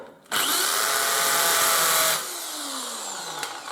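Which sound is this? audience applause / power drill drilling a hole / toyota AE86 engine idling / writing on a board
power drill drilling a hole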